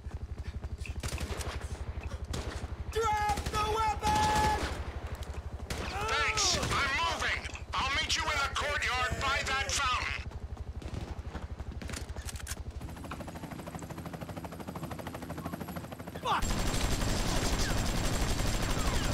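Rapid AK rifle gunfire in Grand Theft Auto V rattles out in dense, loud bursts for most of the stretch, mixed with game effects and a dense final volley.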